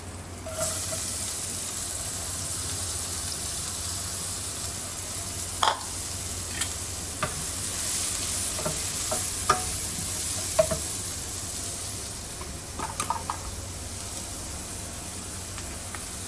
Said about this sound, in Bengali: লাল লাল করে ভাজি নেব আলু আর পটল